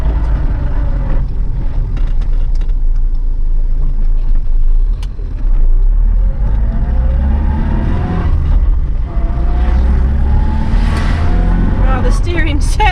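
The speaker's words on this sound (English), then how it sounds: "we get to go and drive on this nice new tarmac" An Austin Allegro fitted with new Blockley tyres drives on fresh tarmac, heard from inside as a continuous low engine and road rumble, with a voice over it at times.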